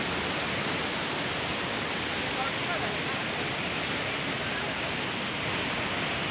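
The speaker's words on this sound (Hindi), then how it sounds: "Just listen to the sound of waterfall." Attukad waterfall near Munnar, Kerala, pours down from the hills in a steady, dense roar that holds even and unbroken throughout, close and moderately loud, with no talk over it.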